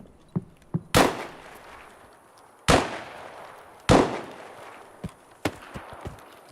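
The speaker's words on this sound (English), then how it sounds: "What gun is that?" Gunshots from Escape from Tarkov: three loud, sharp reports with ringing tails spaced a second or more apart, scattered with smaller distant cracks and pops throughout, no voices.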